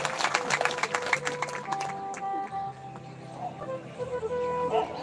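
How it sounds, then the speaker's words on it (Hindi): Audience clapping at a Bhagwat Katha religious discourse in Pindi Kathad, a loose, moderately loud wash of handclaps rising and falling over several seconds with some musical tones in the background. "ताली तुहियां डरी डरी मारा तो तुहानू खुशी नहीं होगी है?"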